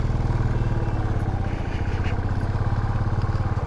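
A motorcycle engine labours steadily uphill on the rough Sach Pass mountain road, a loud, close, throbbing low drone with rapid pulsing and no letup, mixed with faint rattles.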